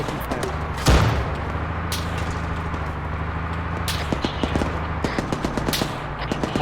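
Gunfire during a military simulation exercise: a loud nearby shot followed by scattered single shots and rapid bursts echoing over a steady engine drone, with voices talking over the noise.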